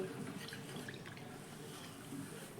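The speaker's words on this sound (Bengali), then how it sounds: "ওই একই বাটির মাপ ধরে এখানে আমি জল দিয়ে দেবো প্রথমে দু বাটি" Water poured into semolina in a bowl to make batter, a steady close rushing and splashing pour that fills the whole moment, moderately loud and without talking.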